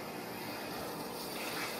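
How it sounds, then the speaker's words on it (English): Steady stream of water running from a refrigerator dispenser into a jug after a water filter change, a continuous close hiss and trickle, faint and alone. "take a jug, put it under and run some water through"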